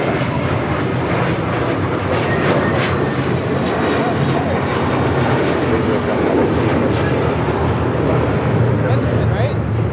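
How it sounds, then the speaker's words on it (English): Jet airliner roar from an American Airlines Airbus A321 departing Los Angeles International Airport for JFK, a steady broadband rumble lasting the whole stretch, with people chatting nearby at a plane-spotting spot. "That was American Airlines flight 307 and at A321."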